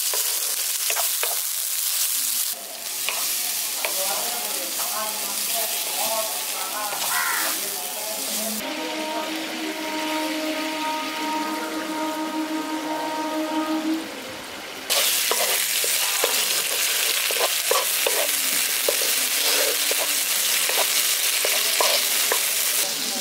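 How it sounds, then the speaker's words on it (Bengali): Spice paste with turmeric sizzles steadily in a pan while a spoon stirs and scrapes through it, frying close and continuous throughout, with a steady hum joining in partway. "আর সামান্য একটু হলুদ গুঁড়ো দিয়ে দিচ্ছি। মশলাটাকে কষিয়ে নিচ্ছি।"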